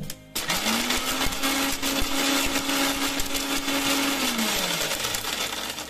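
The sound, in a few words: mixer grinder grinding shatavari root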